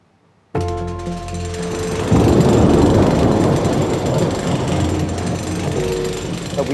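Concrete being broken up with a powered drill or breaker in a basement during a forensic excavation: a loud, continuous hammering roar that starts abruptly and grows heavier, with no break.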